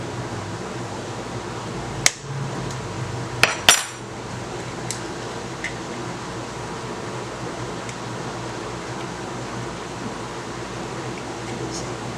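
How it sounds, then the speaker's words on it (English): Eggs being separated for a Bajan-style quiche: a few sharp shell and bowl clicks come close together, with a steady room hum and faint fan noise around them. "Now I'm going to take the yolk of two eggs."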